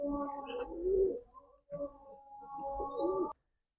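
Pigeons cooing close by, a few low throaty rolling coos in two bursts separated by a short pause, fairly quiet against a still background.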